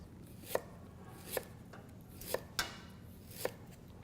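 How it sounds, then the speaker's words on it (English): A knife slices fresh ginger into thin planks on a cutting board, five sharp, distinct chops spaced roughly a second apart, close and clear against a quiet background. "And then I can go ahead and slice this"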